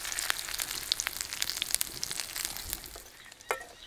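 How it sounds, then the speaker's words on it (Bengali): Whole cumin, bay leaf and cinnamon sizzle in hot oil for a Bengali paneer masala, a steady crackling fry dotted with sharp pops and spits, close and moderately loud. "ফোড়নে দিলাম গোটা, জিরে, তেজপাতা আর দারচিনি"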